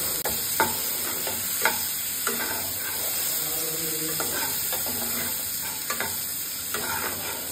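Chopped onion fries in hot oil with cinnamon, cardamom and cumin, a constant close sizzle broken by repeated scraping stirs of a spoon around the pan.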